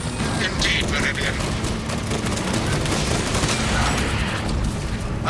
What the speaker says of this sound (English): Firing on that carapace will only squander ammunition.